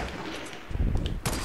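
Gunfire in the Fortnite Battle Royale video game, a short burst of two or three sharp shots in quick succession over a steady background, close and moderately loud.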